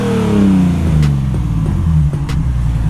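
A sports car engine revs hard with a raspy, throaty note, its pitch sweeping down and then holding a deep rumble, loud and close with no talking, at a track outing in Le Mans.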